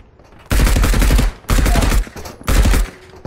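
Gunfire in a video game rings out in three loud, rapid automatic bursts, each lasting under a second and separated by brief pauses.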